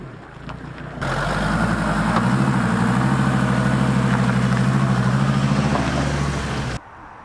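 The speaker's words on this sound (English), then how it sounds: "next it was time to start the van because I had work fitting a diesel heater job today" An old van's engine fires up after a moment of quiet, then settles into a loud, steady, throbbing diesel-like rumble that holds for several seconds before cutting off abruptly.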